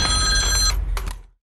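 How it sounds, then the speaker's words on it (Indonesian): A landline telephone rings in a horror film scene, a loud bell trill cut short, followed by a brief fainter ring burst before fading out. "terdengar lagi suara nada dering telepon rumah"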